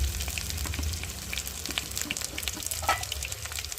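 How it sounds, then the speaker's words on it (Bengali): Chopped onions frying in a pan with green chillies, a steady close sizzle broken by light scraping and stirring taps, no voices. "আর এবার দিয়ে দেবো কুচিয়ে রাখা পেঁয়াজ, দিয়ে ভালো করে একটু ভেজে নেব লাল লাল করে।"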